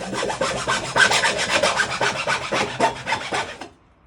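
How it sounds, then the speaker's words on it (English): Steady back-and-forth rasping of a hacksaw cutting through material, close and loud, in quick regular strokes that stop abruptly near the end. "maybe the hacksaw, and cut into it here."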